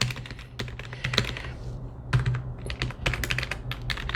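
Rapid uneven typing on a budget 87-key tenkeyless gaming keyboard with non-mechanical keys, soft close clacks in quick bursts with a brief pause partway, no talking.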